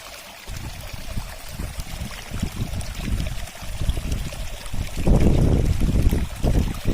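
A mountain stream along the Mangli trail on Mount Sumbing gives a steady, close rushing wash of water that grows louder and fuller in the last couple of seconds, with no voices.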